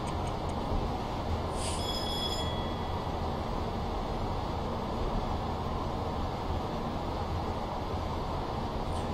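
Class 40 diesel locomotive 40145 in Train Simulator 2016 on the London to Bedford line, a steady continuous engine drone with rumbling wheels, with faint high squeals early on and no talking.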